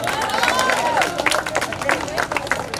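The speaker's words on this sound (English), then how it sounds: "Let's welcome him with a round of applause." Applause for a prize winner at a school National Sports Day, crowd clapping steadily and fairly close with murmuring voices and babble mixed in throughout.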